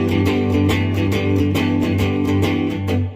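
Guitar playing a riff with the rest of the chord mixed in, strummed in quick down-up strokes, a full, loud, continuous rhythmic sound with no talking.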